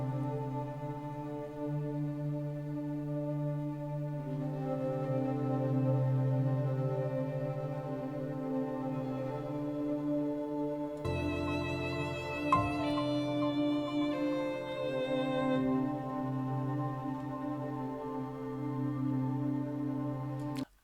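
HS Dirty Resins 2 effect from the Zebra 2 synth plugin played solo, a sustained harmonic synth drone that shifts into a brighter, busier texture partway through, with no voices.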